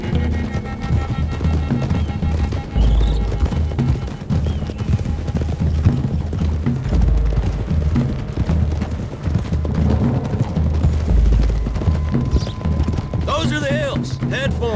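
Horse hooves clip-clopping at a quick pace in Red Dead Redemption 2, several riders together under speech, with rhythmic thuds, occasional snorts and a distant boom near the end.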